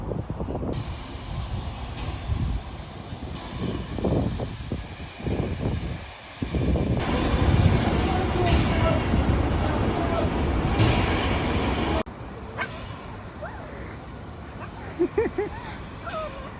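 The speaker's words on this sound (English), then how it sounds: "the first steam locomotive in the UK to run under the guise of Thomas the Tank Engine" A steam locomotive running as Thomas the Tank Engine at the Nene Valley Railway, with loud hissing steam and rumbling, chuffing noise that grows stronger midway, then drops to quieter background sounds with faint distant voices.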